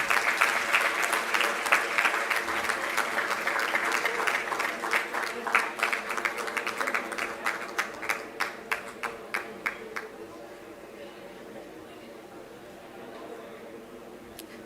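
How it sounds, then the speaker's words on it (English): Audience applause at a graduation convocation ceremony, a dense crowd clapping loudly that thins into scattered individual claps before fading to near silence around ten seconds. "Please give a huge round of applause for them"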